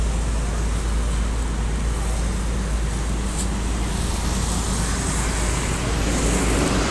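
An ALS intercity bus idles before pulling away on the road to Medan, a steady low diesel rumble mixed with broad roadway noise, continuous and fairly loud throughout.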